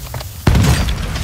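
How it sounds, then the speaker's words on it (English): A mortar strike explodes in Call of Duty Warzone 2.0 during a Resurgence match on Vondel, one heavy sudden boom with a rumbling, debris-filled tail, loud and close after a few faint clicks. "Mortar strike inbound now."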